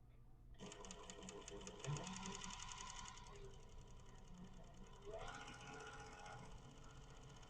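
A foot-pedal overlock sewing machine runs fast and steady with a rapid mechanical rattle, briefly shifting speed partway through, close and continuous.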